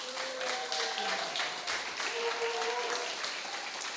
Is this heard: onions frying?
no